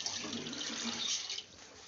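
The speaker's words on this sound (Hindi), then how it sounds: "उसमें हम आधा किलो पानी ऐड करेंगे" Water pours steadily into a cooking pot, a continuous close rushing splash that cuts off near the end, with faint background sounds.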